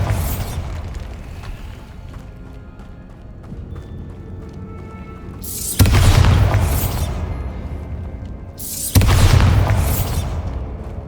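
Two heavy, booming blasts from the Bombarda spell in Hogwarts Legacy, a few seconds apart. Each one cracks loud and close, then rolls off into a rumbling tail above a faint game backdrop.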